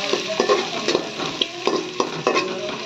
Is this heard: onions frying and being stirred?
yes